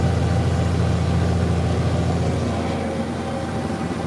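A tractor engine labors uphill while pulling a chisel plow on a stony farm field, a steady, loud low drone close by with no pauses.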